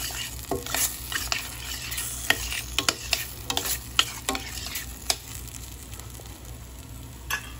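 Ham sautéing for pasta, a close, steady sizzle broken by frequent sharp scrapes and taps of a spatula on the pan.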